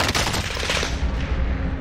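Rapid automatic gunfire in Call of Duty: Warzone, a loud, close burst of quick shots that tails off into a fading rumble, with no voices over it.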